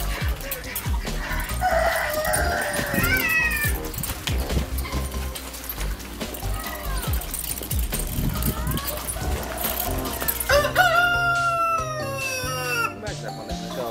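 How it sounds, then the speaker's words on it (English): Chickens cluck all around at an animal rescue retreat, with a rooster crowing loudly several times close by, while people chat and laugh over the birds. "Chickens everywhere."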